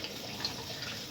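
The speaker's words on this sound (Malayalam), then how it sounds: "വെള്ളം അപ്പോഴത്തേക്കിനും വീണല്ലോ" Tap water runs softly and steadily over cauliflower being washed in a sink, a faint, even splashing with no talk.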